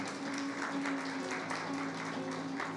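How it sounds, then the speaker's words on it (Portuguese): Soft applause from a congregation at a church service welcoming a visiting woman, continuous and fairly distant, with a faint steady tone underneath. "Uma salva de palmas para a nossa visitante."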